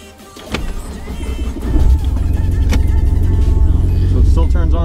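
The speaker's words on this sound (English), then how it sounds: "the best way to tell is by trying to turn the car on" A Volvo 240 is started on a cold day: a sharp click, a brief cranking stretch, then the engine catches and settles into a loud, close, steady low rumble.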